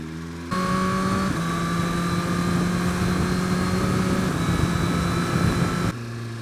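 A Suzuki GSX-R1000R superbike engine hums steadily under a rider, with smooth shifts changing the pitch partway through and a continuous close-up exhaust and wind roar lasting several seconds.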